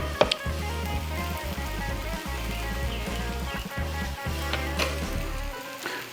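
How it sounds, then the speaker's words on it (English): Steady sizzling from onions frying in butter on a hot Blackstone griddle, with low continuous hum and a few clacks of a utensil, no talking. "As fast as you can fry some onions is when the patty melt is done."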